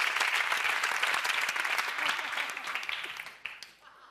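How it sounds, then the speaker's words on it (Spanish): Audience applause for dancers on a TV show stage, a quick burst of clapping from a crowd that holds strong and then fades out over a few seconds. "Fuerte aplauso para los bailarines del Showriano, por favor"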